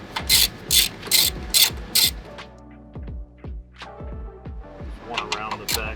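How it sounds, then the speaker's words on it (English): A 14 mm socket ratchet clicks in several quick bursts while loosening bolts on an engine cover of a 2009-2012 Lexus LS460 AWD, close and crisp, with lighter metallic taps and handling noises between the runs of clicks. "next I'm going to remove this cover right here with a 14 millimeter"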